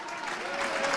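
Football crowd at a National League South match between Dulwich Hamlet and Braintree Town applauding at half-time, a steady wash of clapping and cheering that swells slightly toward the end.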